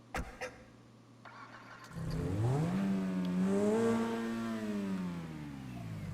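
A red Ferrari-like supercar in GTA Online starts with a brief whir and catch, then the engine rises into a smooth rev and settles into a steady, fairly loud idle.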